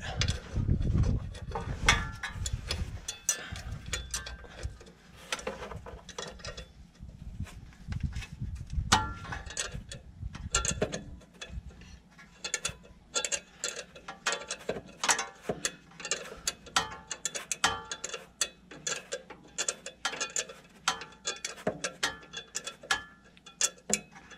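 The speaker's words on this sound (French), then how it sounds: "Placer le cliquet." A ratchet wrench works on a 2.2 HDI diesel engine being removed from a vehicle, giving rapid, repeated clicking bursts with heavier mechanical clunks near the start, close and fairly loud, with no talking.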